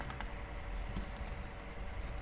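Fast, steady typing on a computer keyboard, a quiet run of close key clicks with a faint background hum and no talking.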